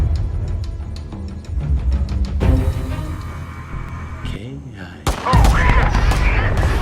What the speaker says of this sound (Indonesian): Tiba-tiba baku tembak terjadi di mana anak buah Hashimi mulai membunuh para pengawal Petrov